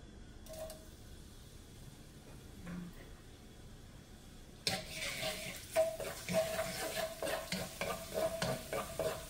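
Garlic dropped into hot oil in a pan for baked sausage: quiet clatter at first, then a sudden loud sizzle that keeps crackling and popping with stirring scrapes.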